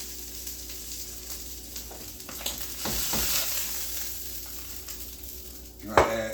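Salmon fillet searing skin-side down in a hot pan, a constant crackling sizzle with scattered scraping stirs and a louder clatter near the end, heard close with no talking.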